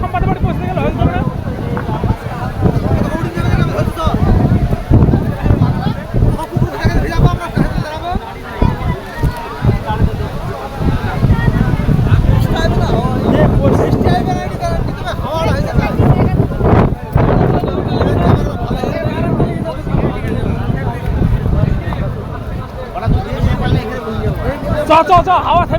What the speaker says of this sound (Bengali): দেখো গাইজ, ঝড় উঠেছে, সবার গাড়ে ধুলো দিয়ে কি ঝড় ঘুরে বেড়াচ্ছে।